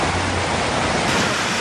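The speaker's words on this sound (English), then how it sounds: "So here is the sound that gets associated with water." A dense, continuous rush of water, like a nearby waterfall or surf, loud and steady throughout.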